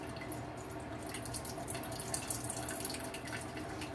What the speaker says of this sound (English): Draining very slowly.